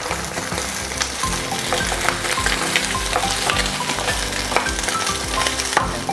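Oyster omelette (orh luak) frying in a pan to crisp its edges, a loud, close, continuous sizzle with scraping stirs and small pops throughout, no talking.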